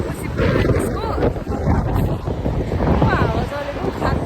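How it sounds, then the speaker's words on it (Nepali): Strong wind blows outdoors in Gyeongju, South Korea, buffeting the microphone with a continuous low roar and rumble while a person talks throughout. "कस्तो हावा लागेर यो अति हावा छ"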